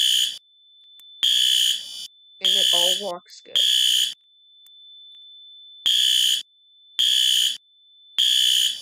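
A fire alarm panel built in Roblox Studio sounds a loud steady electronic tone in repeated on-off pulses, about a second each with gaps between, while someone speaks briefly in the middle.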